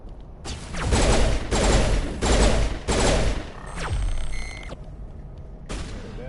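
Gunfire and sniper shots in the Mass Effect Legendary Edition video game ring out as several loud, dense bursts of rapid fire, followed by a softer stretch of shooting with a metallic ring, then one last burst.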